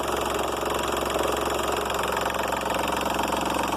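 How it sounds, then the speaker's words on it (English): A VW Polo engine with a suspected faulty alternator idles loudly and steadily nearby, a constant rumbling drone with a slight pulsing knock throughout. "sorry about the noise, but as you can see, engine is running"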